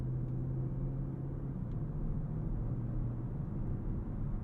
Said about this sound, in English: Here in auto drive mode, the throttle tip-in is gentle, the power is abundant